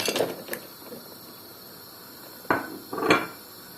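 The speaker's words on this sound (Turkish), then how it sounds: "ben de soğuk suyumu içerisine 2 kalıp buz ekliyorum" Two ice cubes dropped into a bowl of cold water: a few sharp clinks and knocks against the bowl, heard in separate bursts at the start and again near the end, close and fairly quiet.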